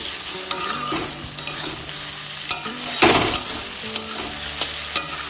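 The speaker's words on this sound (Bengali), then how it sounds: "চিংড়ি মাছটা হালকা ভেজে নিয়েছি" Salted, turmeric-coated prawns fry in hot oil with spices for a Bengali cabbage ghonto. The sizzle is loud and close and runs throughout, with sharp clinks of a spoon stirring against the pan.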